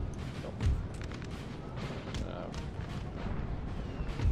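Cannon artillery booms in a Napoleonic Total War 3 multiplayer battle, with muffled thumps scattered through a constant roar of battle noise while a player talks over it.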